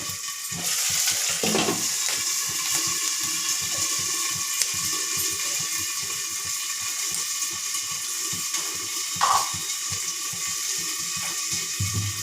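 Ginger-garlic paste sizzles in a hot pan, a steady, close hiss of frying that runs without a break, with a couple of brief clinks partway through.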